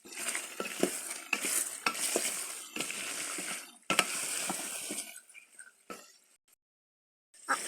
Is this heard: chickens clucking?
no